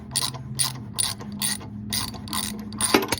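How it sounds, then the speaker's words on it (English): A hand ratchet clicks in steady, evenly spaced bursts while gently tightening a new spark plug on a lawn mower, heard close and alone, with a sharper metallic knock near the end. "we're going to just tighten it down gently with my ratchet"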